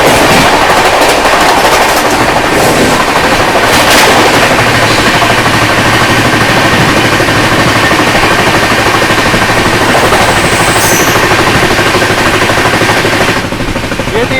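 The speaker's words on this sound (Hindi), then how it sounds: "तो सामने से आ रही है बनारस से चलकर नई दिल्ली की ओर जाने वाली शिवगंगा सुपरफास्ट एक्सप्रेस।" Shivganga Superfast Express, running from Banaras to New Delhi, passes alongside at close range, loud and continuous, with dense rattling wheel clatter and rail noise held steady through the whole passage and only easing at the very end.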